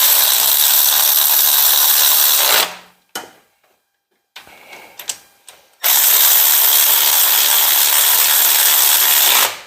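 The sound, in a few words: ratchet wrench being worked on a 57 car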